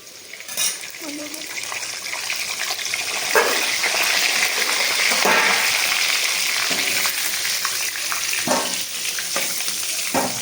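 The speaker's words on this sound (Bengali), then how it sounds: "কিছু মাংস ভেজে নেব" Meat sizzles in a hot pan with onions during home cooking of a chicken masala, a steady hissing fry broken by occasional sharp clatters and stirring scrapes.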